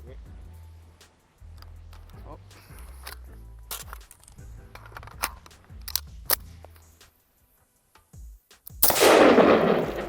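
Rifle shots ring out at targets on a firearms training range, a few sharp cracks scattered among handling noises, with one loud, close blast near the end and people talking between shots.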